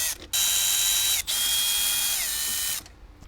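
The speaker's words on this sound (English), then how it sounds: "Next, we want to remove these 4 screws that are on top of the gauge cluster panel here." A power screwdriver whines in two sustained bursts while removing screws from the gauge cluster panel of a 2018–2023 Jeep Wrangler JL, close and loud, with a short pause between runs and no talk.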